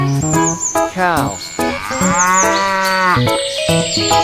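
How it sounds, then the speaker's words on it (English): A cow moos loudly and close by, several long drawn-out bellows with rising and falling pitch, set among other farm animal calls. "Cow."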